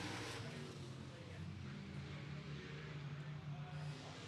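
A race car engine drones steadily at a speedway during local-class qualifying, a continuous far-off roar that holds even for the whole stretch under a commentator's voice.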